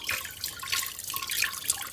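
Water poured over curdled milk to drain off the whey while making homemade paneer in a village, a steady splashing trickle close by with bright, bubbly dripping.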